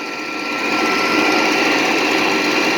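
A gold dry washer runs steadily close by, giving a loud, continuous mechanical whir and rattle with a dense, even hiss of dirt and air that holds throughout.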